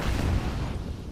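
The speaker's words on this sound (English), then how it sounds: "Laser bomb." Laser-guided bomb strike in Call of Duty Modern Warfare on a Hardpoint match at Cheshire Park: a deep, rumbling explosion that rolls on as a dense low roar for about a second, loud with no voices over it.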